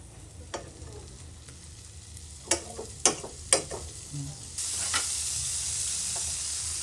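Margarine in a pan for pork sisig: a few sharp utensil clicks and taps, then a sudden steady bright sizzle that swells up and holds to the end, close and loud.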